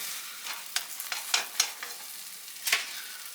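An egg tortilla frying in a pan gives a soft steady hiss, broken by several sharp clicks and scrapes of a spatula working under it and flipping it. The sounds are close and there is no talking.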